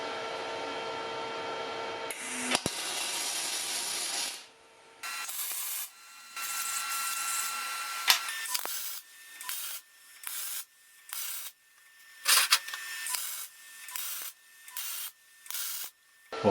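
Paton 250 amp MIG welder joining steel plates: a steady crackling hiss runs for a few seconds, then breaks into a series of short bursts separated by brief pauses, close and fairly loud with no talking.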